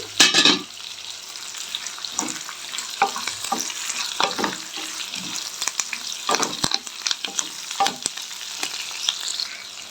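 Turmeric and curry leaves fry in hot oil for a potato gravy, a steady close sizzle with crackling pops throughout.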